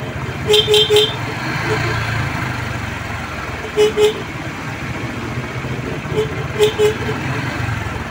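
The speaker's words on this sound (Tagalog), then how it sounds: "subukan po natin i-signal light o i-busina ulit" Short bursts of a thin, weak horn on a Honda XRM125 Fi motorcycle repeat several times over a steady engine idle, with a couple of brief beeps spaced apart.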